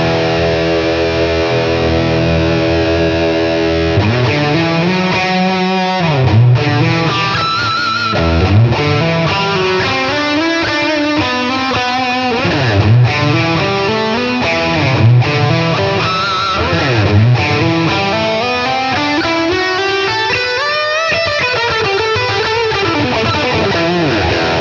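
Electric guitar played through a Boss Katana MKII amp on a high-gain setting with a touch of reverb and delay, loud distorted chords and sustained bending lead notes ringing continuously, with no talking.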